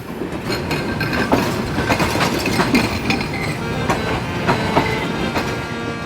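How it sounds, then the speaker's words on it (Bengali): The Chilahati Express pulls into Phulbari station in Bangladesh, loud and close, with rhythmic wheel clatter, metallic clanks and faint squeals over a continuous rumble. "আমাদের ট্রেন আসতেছে চিলাহাটি এক্সপ্রেস"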